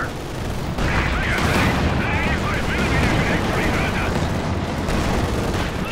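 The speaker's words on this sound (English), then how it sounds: "but Jackson missing some shots here" Rapid bursts of rifle and machine-gun fire with explosions from a Company of Heroes 2 2v2 match fill a dense, continuous battle din, while a commentator talks over it throughout.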